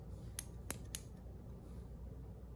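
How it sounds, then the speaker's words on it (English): Small scissors snip fly-tying material on a fly-tying bench in three quick, crisp cuts close to the microphone, faint over a low steady background hum. "you can come in with your scissors"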